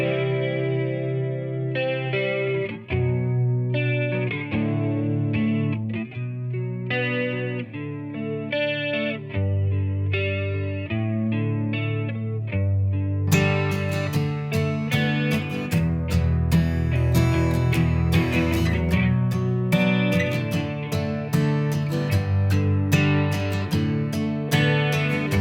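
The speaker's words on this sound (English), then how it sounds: "very roomy, sort of distant, vibey electric guitar sound" Electric guitar played through a Supro Blackmagic combo amp and recorded with a Soyuz Lakeside microphone, roomy and distant with chorus-like effects, chords ringing steadily before a brighter, fuller strummed passage takes over halfway.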